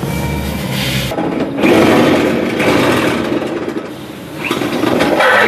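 A Toyota Vigo pickup's diesel engine runs steadily after a leaking injector seal ring was repaired, a loud continuous mechanical drone with a brief dip and some surging, close by, with no talk.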